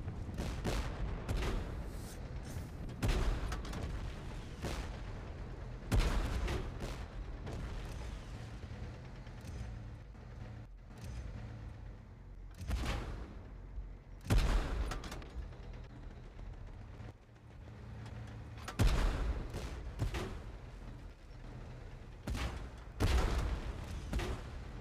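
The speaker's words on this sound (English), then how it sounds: "We are under gunfire!" Battle sounds from the Tank Force video game on the Black Marsh map: repeated heavy cannon booms and bursts of gunfire crack out at irregular intervals over a constant rumbling background, fairly faint overall.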